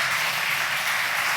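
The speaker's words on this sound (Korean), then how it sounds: "박수 한번 다시 한번 쳐드리죠" A church congregation at a Baptist seminar claps for its worship team, a dense, even burst of applause filling the brief moment with no talking.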